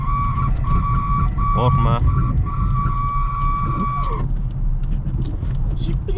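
A car drives along a snowy road, its engine a steady low rumble throughout, with a sustained electronic tone sounding for the first four seconds while people talk over it.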